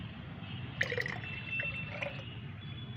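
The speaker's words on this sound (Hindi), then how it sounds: "मैं इस पानी में ही डायरेक्ट इसे छान लेती हूँ" Fenugreek seed fertilizer liquid strained straight into four glasses of plain water, giving a steady close pouring and trickling wash with a few light drips and splashes, no talking.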